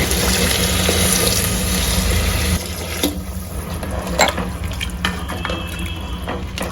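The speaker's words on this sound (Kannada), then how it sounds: "ಸೊ ನಾನಿಲ್ಲಿ 1 ಗ್ಲಾಸ್ ಅಕ್ಕಿಗೆ 2 ಗ್ಲಾಸ್ ನೀರು ಹಾಕ್ತಾ ಇದ್ದೀನಿ." Tap water runs steadily into a pot of washed rice being readied for vegetable pulao, a loud continuous gush that eases and thins out halfway through with small splashes.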